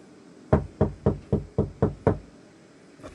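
Seven evenly spaced knocks on a door land close and firm in a steady rhythm, followed by a faint softer tap.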